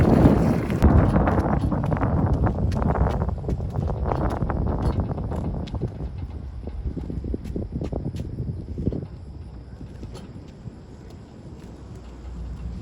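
Gusty wind of about 15 miles an hour buffets the microphone outdoors during a land speed mini bike's first test run, a loud broadband rumble that eases off toward the end.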